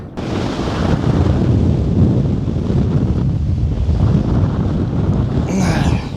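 Strong mountain wind buffets the microphone in a loud, continuous roar with gusty rumbling throughout.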